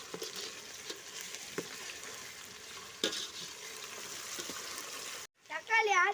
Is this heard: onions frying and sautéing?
yes